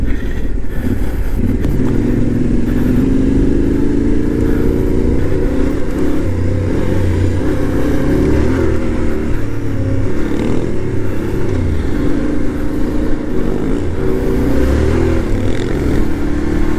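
Yamaha Tenere 700 motorcycle riding a gravel trail in Finland, its engine droning steadily close by with shifting revs and rattling over rough ground throughout.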